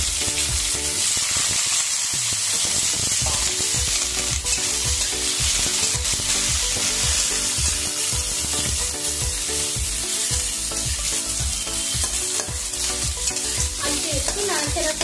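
Potatoes frying in oil with five-spice seasoning in a pan, a continuous loud sizzle broken by repeated rhythmic scrapes and clatters of a spatula stirring, with no talking.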